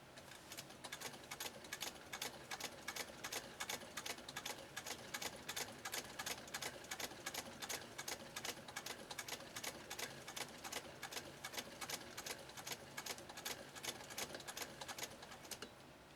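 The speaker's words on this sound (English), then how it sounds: "we're going to be sewing somewhere around 15 stitches per inch through 4 layers of" A 1922 Singer 99K hand-crank sewing machine stitches about 15 stitches per inch through four layers of Army-grade canvas, giving a steady, fast, even clatter of needle strokes with a faint mechanical whir, close and alone.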